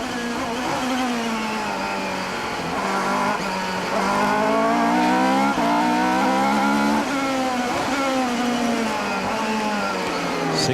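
A Formula 3000 race car with a six-speed sequential gearbox screams around the Monaco street circuit from onboard, its engine note loud and close as it rises and falls through gear changes, with the revs sweeping up and down continuously.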